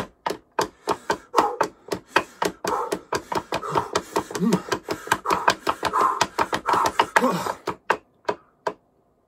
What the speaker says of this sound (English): So just walking. Footsteps. And then running.